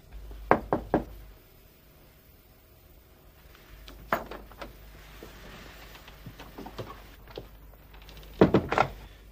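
Knuckles rap on a door in a 1987 Polish feature film, three separate clusters of sharp, fairly close knocks spread across a quiet room with no talking.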